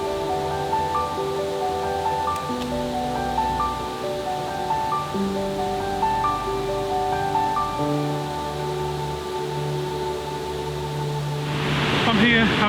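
A woodland waterfall pours during heavy rain, a broad steady roar of rushing water with tonal hum layered over it, and a louder burst of noise near the end.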